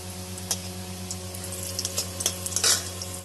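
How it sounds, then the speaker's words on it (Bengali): Lentil dumplings (bori) are fried in a pan for a fish curry, giving a steady sizzle with sharp ticking stirs and clicks scattered across it. The spatter thickens near the end before it cuts off. "বন্ধুরা, এখন ভেজে নিচ্ছি বড়ি।"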